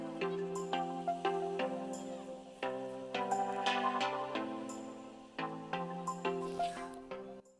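Lenovo X1 Extreme Gen 4 laptop speakers play test music at 40% volume, a clear, tuneful run of notes and chords at modest loudness with no talking.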